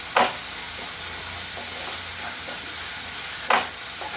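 Onion with ginger-garlic paste frying in a pan, a constant broad sizzle with two sharp stirring scrapes at the start and end and light spoon touches between; no one speaks.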